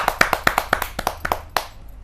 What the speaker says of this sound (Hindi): जोरदार ताली के साथ हम स्वागत करें प्रीति कच्छल जी